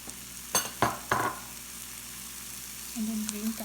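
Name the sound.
green capsicum frying in a pan for omelet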